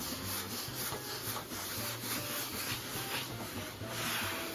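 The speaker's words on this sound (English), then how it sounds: "Now we're starting to see the image as we take off the excess ink." Steady, close rubbing and wiping as excess ink is cleaned off a mezzotint printing plate, a continuous rasping scrub with rhythmic strokes and no talking.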